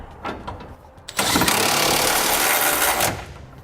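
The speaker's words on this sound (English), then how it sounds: "Now I'm going to come back with the 21mm socket and I'm going to snug up all my hardware" Hitch bolts on a Curt trailer hitch receiver for a 2015 Chevrolet Colorado being tightened with a 21mm socket: a few short taps, then a loud buzzing run of about two seconds close by before it winds down.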